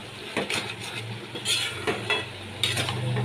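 A spoon stirs hilsa fish head and ash gourd curry in a pan, giving repeated scraping clinks against the metal every half second or so over a faint sizzle, close and moderately loud.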